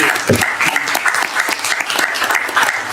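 Applause at a city board of directors meeting honours a Public Works employee's five-year service award, close, uneven clapping from a modest crowd with distinct individual claps standing out throughout.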